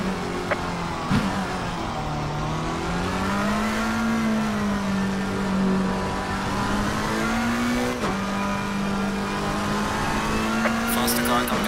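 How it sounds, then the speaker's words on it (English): Engine of a race car at Barcelona holds a loud, wavering tone that rises and falls with gear changes, with an in-car perspective and brief radio-style voice cues heard over it. "Faster car coming up behind you."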